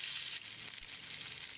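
Chopped small onions sauté in a pan with fenugreek and curry leaves for radish sambar, giving a soft, steady hiss of oil sizzling with no talk.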